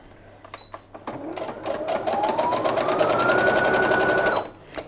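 A sewing machine stitches fabric for a hanger cover, its needle ticking rapidly as the motor whine climbs and holds steady, then stops abruptly.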